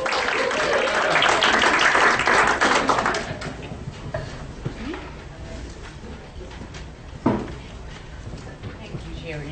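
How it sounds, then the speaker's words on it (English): Audience applause after a talk introduction, a dense wash of clapping loudest in the first three seconds, then thinning to scattered claps with a single sharp clap near the end. "A great round of applause for Gerianne"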